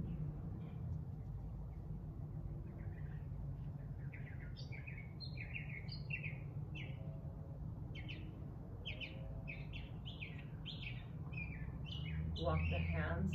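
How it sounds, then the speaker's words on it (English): Birds sing outdoors in a scattered series of chirps and short warbling phrases, fairly faint over a low steady rumble of background noise. "Love the sounds of the birds."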